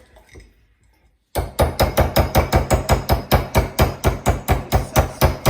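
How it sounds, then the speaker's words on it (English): A whisk beats rapidly through coffee cake batter in a bowl in a steady, fast rhythm of sharp clinking strokes after a brief quiet start. "So whisk it really hard."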